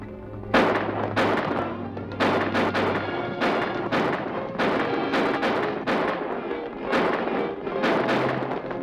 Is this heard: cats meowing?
no